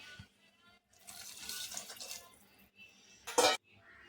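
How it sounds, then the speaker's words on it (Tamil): Tamarind water and then plain water poured into a pan of kara kulambu curry, a steady splashing pour lasting over a second, followed by a short, louder splash close by. "இது கூடவே தேவையான அளவுக்கு தண்ணியை விட்டுக்கலாம்"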